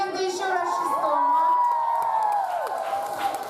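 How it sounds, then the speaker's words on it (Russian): Children cheering, shouting and clapping at an evening talent party at a summer children's camp, a lively crowd roar with sustained high-pitched cries and yells over light applause. "Аплодисменты еще раз 6-му."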